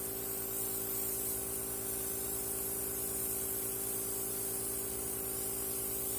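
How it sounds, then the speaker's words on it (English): A steady, fine airbrush hiss sprays makeup without pause, soft and close, with a low mechanical hum underneath. "spraying out some of the product"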